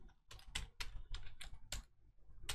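Someone types code on a computer keyboard in short irregular bursts of sharp, close key clicks and taps with brief pauses, and no one speaks.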